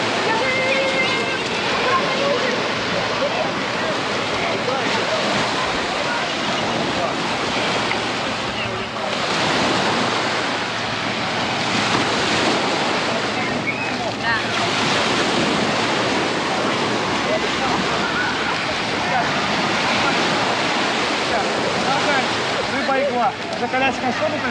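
Steady roar of surf washing onto a shore, loud and continuous with gusts of wind buffeting the microphone.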